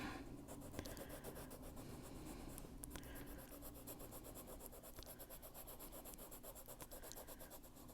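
Pencil and eraser rubbing on paper while coloring a fairy page, a steady close scratchy rasp with quick back-and-forth strokes continuing throughout, no talking.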